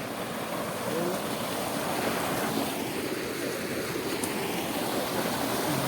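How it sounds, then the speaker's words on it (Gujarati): Canal water running in a farm field, a steady rushing wash close by with some wind buffeting the microphone, continuous and moderately loud. "આપણે કેનાલનું પાણી વાળવા આવ્યા છીએ. કેનાલ ચાલુ છે."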